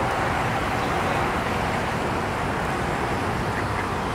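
Steady roar of highway traffic beside a Tampa Bay, Florida hotel, a constant broadband rush of passing vehicles heard continuously from nearby with no speech.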